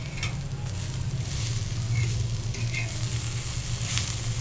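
Garlic cloves and ginger frying in a pan over a low gas flame, giving a steady, dense sizzle that holds evenly throughout with faint crackles on top.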